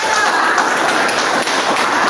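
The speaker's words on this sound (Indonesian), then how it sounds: "Tepuk tangan untuk semuanya." A classroom of students applauds together during a sociology teaching-practice lesson, a steady burst of dense clapping that runs evenly for about two seconds without letting up.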